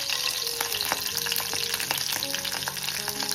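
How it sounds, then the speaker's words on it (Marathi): Curry leaves and chilies hit hot oil in a pan, giving a dense, bright continuous sizzle with scattered pops and crackles, close-up and steady, with no voices. "चला आता आपण तेलात कढीपत्ता टाकू. मिरची सुद्धा टाकून घेऊ."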